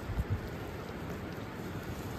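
Rain falling in the mountains on a trip to Sach Pass, a steady soft hiss of rain with a couple of low thumps near the start, no talking.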